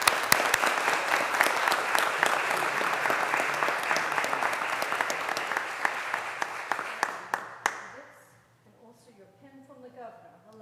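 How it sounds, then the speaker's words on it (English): Audience at a county board of commissioners meeting applauding a hospital volunteer, a dense roomful of claps that thins out and stops near the end, followed by someone speaking. "Let's give Ed another round of applause."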